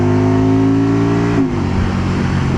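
A Can-Am Spyder RT three-wheeled motorcycle engine drones loudly and steadily, its pitch holding, then dropping as it eases off near the end, heard close up with no talking.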